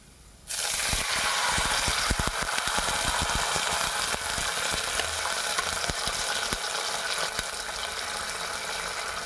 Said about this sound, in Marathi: त्याच्यामध्ये एक छोटा ग्लास पाणी घालायचं आहे